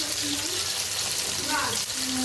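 Fish, rubbed with turmeric, chili and salt, frying hard in a pan as a steady, loud hiss and crackle, close up and continuous.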